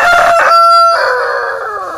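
A rooster crows loudly and close by in a single drawn-out call with a clear tonal rise and a long falling tail.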